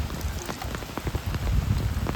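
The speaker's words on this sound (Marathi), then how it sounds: "भरपूर पाऊस पडतो आता." Heavy rain pours steadily onto a flooded paddy field during rice transplanting, a dense, close patter of drops that swells slightly toward the end, with no talking.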